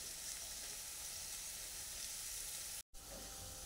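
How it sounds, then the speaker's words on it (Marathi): Spices frying in oil over a low gas flame for a Marathi paneer pulao, giving a steady, even sizzle throughout with one brief dropout near the end; no talk. "आपल्या कमी गॅसवर हे 1 मिनिटभर मसाला चांगला परतून घ्यायचा आहे तेलामध्ये."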